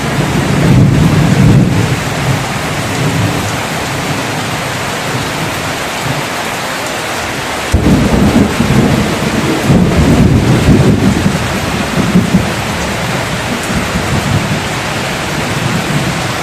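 Heavy rain pours down in a dense, loud roar during a storm, with low rumbles of thunder swelling twice and no voices.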